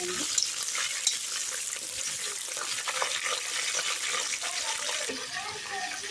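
Tomatoes with salt and turmeric sizzle steadily in a pan for gongura chicken curry, a dense, continuous frying hiss with light stirring scrapes throughout and no talking.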